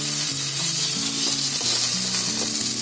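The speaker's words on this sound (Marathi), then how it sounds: "कांदा थोडा फ्राय करून घेते" A small onion frying in a pan with oil and spice paste hisses in a steady, loud sizzle, with a faint pitched tone running underneath throughout.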